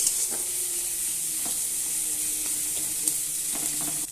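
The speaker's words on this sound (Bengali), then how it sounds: "এবার আমি এটা দিয়ে দেবো সব। এবার দিয়ে ভালোভাবে নাড়বো, একদম ভাজা ভাজা করব এটা আমি।" Fish roe stir-fried in hot oil for a dish with stems and pointed gourd, giving a steady close sizzle with occasional clinks of a spatula stirring the pan, no voices.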